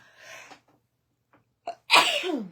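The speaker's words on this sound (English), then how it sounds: "Oh, excuse me, I have to sneeze." A single loud sneeze erupts close by after a sharp intake of breath, preceded by a brief quiet murmur.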